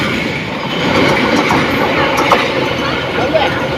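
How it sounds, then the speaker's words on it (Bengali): A Titas commuter train bound for Brahmanbaria rolls through Daulatkandi railway station, a loud, steady rumble of wheels and cars passing close by with faint clicks over the rails, while someone talks over it. "দুলতকান্দি রেল স্টেশন ক্রস করে যাচ্ছে ঢাকার থেকে সেরে আসা ব্রাহ্মণবাড়িয়া অভিমুখী তিতাস কমে ওঠার"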